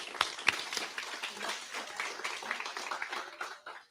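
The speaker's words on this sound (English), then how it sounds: "Give him a round of applause, please." An audience at the Chattanooga Humanitarian Awards Banquet in the Chattanooga Civic Center claps in a room-filling round of applause, with a couple of sharp claps up front before the wash of clapping fades out.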